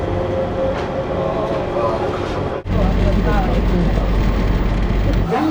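A Singapore LRT monorail train serving a residential area rolls along with a loud, steady rumble and rushing noise from inside the car, a brief dropout midway, then continuing strongly.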